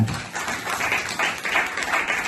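Church congregation clapping at a mini Christmas gathering at a Baptist church, a dense, steady patter of many hands filling the room, moderately loud and continuous.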